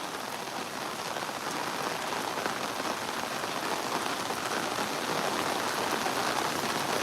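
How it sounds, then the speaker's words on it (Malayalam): Heavy, sudden downpour falling outdoors at a worksite in Uzhavoor, a dense steady roar of rain striking surfaces close by, constant and loud throughout with no voices. "ഒരു അലേർട്ടും ഇല്ലാതെ ഇപ്പം ഇങ്ങനെ പെയ്തുകൊണ്ടിരിക്കുന്നത്"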